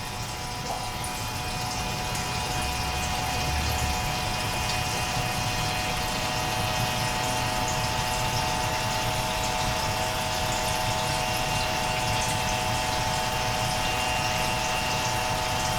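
A loud 3155 return pump on a Waterbox reef tank runs steadily during a water change, a constant mechanical hum and whine mixed with rushing water, unchanging and close for the whole stretch.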